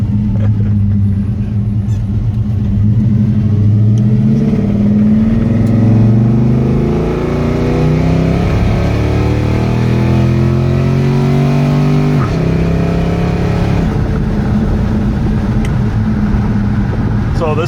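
A restored classic car once owned by the driver's father pulls away and accelerates, its engine rumbling loud and steady as revs climb and drop through several gear changes, heard from inside the cabin.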